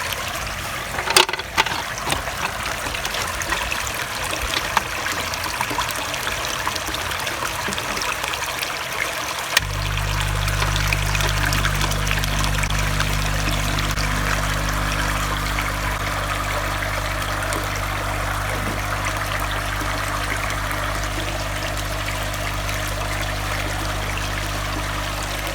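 A large aeration stone in a koi pond switches on partway through, then bubbles the water with a loud, steady, continuous rushing and fizzing that stays close and unbroken to the end.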